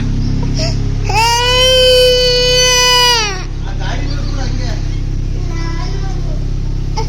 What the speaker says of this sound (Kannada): ನನ್ನ ಮಗಳು ಬಂತು ಫುಲ್ಲು ಕಣ್ಣೀರು ಬಂದ್ಬಿಟ್ಟಿದೆ